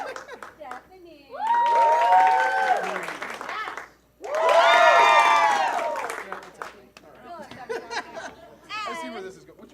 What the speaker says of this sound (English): I need you to clap for who you'd like to stay on stage.